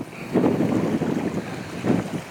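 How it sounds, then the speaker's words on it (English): Wind blowing across the mic at the Jersey Bayshore on a cloudy fall day, a steady low rumbling buffet that swells in a couple of gusts. "A little wind picking up,"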